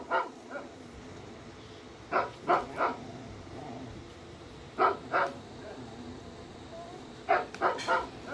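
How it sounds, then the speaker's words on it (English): A smart speaker plays husky barks: short bursts of two or three barks and yips, separated by quiet gaps, fairly close and clear, with no talk over them. "Alexa, bark like a husky."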